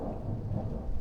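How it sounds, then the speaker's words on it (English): Low, continuous rumble of thunder during a thunderstorm, a steady rolling roar with no voices, filling the whole moment. "Thunder Storm"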